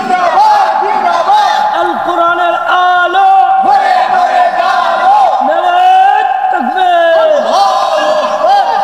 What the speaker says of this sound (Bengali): জোরে জোরে তাকবীর দেন